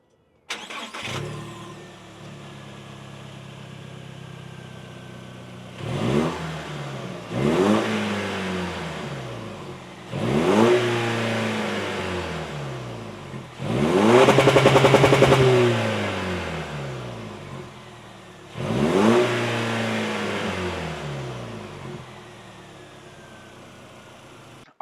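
A Toyota Tacoma pickup engine with a new axle-dump exhaust revs hard in five separate bursts, each rising and falling back to a loud, throaty idle, close by with no talking.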